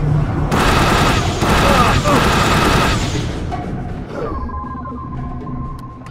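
Gunfire in the video game The Bureau: dense, sustained bursts of shots for about three seconds, loud and close, then fading into quieter game sounds with a lingering tone.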